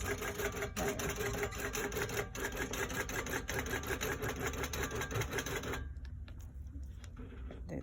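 Handi Quilter Amara 24 quilting machine running basting stitches, a close, steady rapid mechanical clatter that stops near the end, leaving quiet handling sounds.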